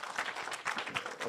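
A crowd at a political address to Nakuru residents breaks into applause, dense rapid clapping filling a brief burst, moderately loud and slightly distant.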